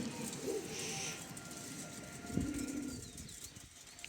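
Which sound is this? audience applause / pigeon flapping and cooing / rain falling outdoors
pigeon flapping and cooing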